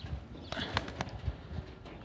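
Milk-white pigeons shuffle and flap nearby, with a few soft coos and sharp wing claps scattered over a couple of seconds in a quiet space.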